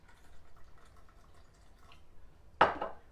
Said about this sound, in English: Now we're gonna use the milk. I'm gonna use pretty much about 2 to 3 ounces